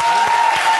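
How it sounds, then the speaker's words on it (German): Brief burst of studio audience applause for a guest on a German comedy TV show, dense and steady, with a faint tone running underneath. "Großer Applaus für Werner Schulze Erde."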